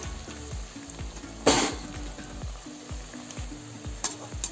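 Vegetarian yam fritters fry in hot oil with a steady, bright sizzle close by. A louder hissing burst comes partway through as a fritter is turned, over a faint repeating low tone.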